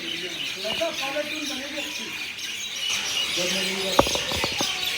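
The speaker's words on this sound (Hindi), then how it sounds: "सुन रहे हैं चिड़ियों की चहचहाट" Birds chirp in short bursts at a railway station, including a quick run of sharp tweets, while someone talks in the background.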